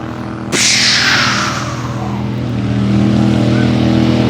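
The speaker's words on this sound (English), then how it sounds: "The tractor pulling's still very much going strong." A loud, heavy tractor-pulling engine roars up suddenly at a spring fair in East Sussex and keeps droning hard at high revs, close and sustained, straining under load.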